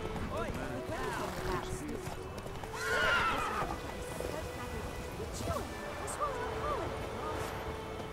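A horse in the Witcher 3 video game whinnies loudly once, with rhythmic hoofbeats clip-clopping throughout at a moderate level and a voice speaking briefly over them.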